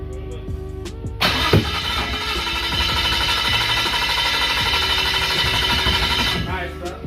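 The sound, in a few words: Nissan RB25DET engine cranking on first start attempt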